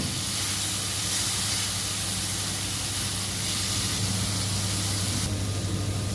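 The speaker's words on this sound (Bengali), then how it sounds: "এখন সুন্দর করে নেড়ে ছেড়ে ভেজে নেব" Water spinach (kalmi shak) greens stir-fried in a pan, giving a steady, dense sizzling hiss that runs unbroken and fairly loud throughout, with no one talking.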